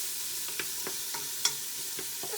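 Peppers for chili sizzle in a pan under a steady hiss while a utensil stirs them in a few distinct scraping strokes, one sharper clack standing out, close and alone without speech.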